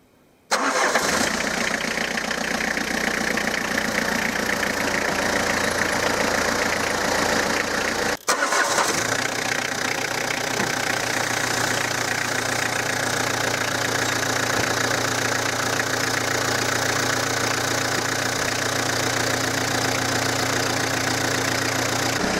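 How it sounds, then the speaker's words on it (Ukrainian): A car engine cranks and catches, then settles into a steady, loud idle close by, with a brief dip partway through before the even running resumes; no talk is heard. "треба завести машину і з'їхати з цього естакада"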